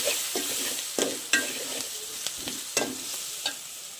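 Mixed winter vegetable bhaji sizzles in a pan with turmeric while a spatula stirs it, giving sharp scraping knocks at irregular intervals over a steady fry close by.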